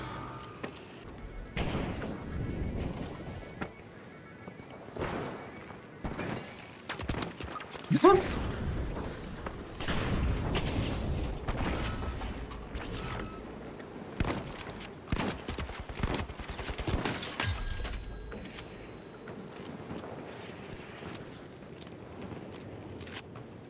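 Model 1887 lever-action shotgun fire in the video game The Finals: repeated sharp, loud blasts at uneven intervals, mixed with other gunfire, impacts and busy game noise.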